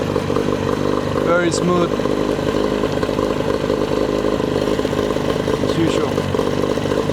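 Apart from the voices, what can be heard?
Mercury outboard motor running while warming up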